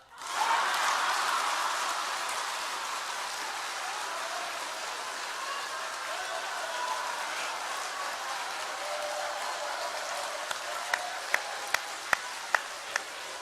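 A church congregation at a Sunday worship service claps together in a sustained, even wash of applause for several seconds. A few sharper single claps stand out near the end, and no laughter is clearly distinct.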